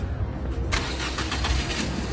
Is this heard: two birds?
no